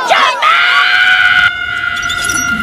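A loud, sustained scream from a silat action film rises sharply and holds a piercing pitch for a couple of seconds, dominating the sound.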